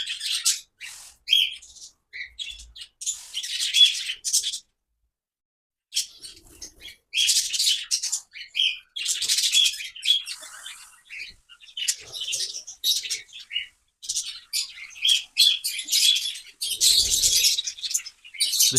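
Parrots chirping and calling in an open aviary, bursts of bright tweets and squawks coming in steady clusters with brief pauses, fairly close and clear, with faint rustling of wings in between.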